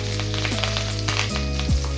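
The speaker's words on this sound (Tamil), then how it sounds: "நான் வந்து சோம்பு போட்டு தாளிக்கிறேன்" Fennel seeds sizzling and crackling in hot oil for a South Indian drumstick stir-fry, a close, continuous frying hiss with a few clinks of a utensil against the pan.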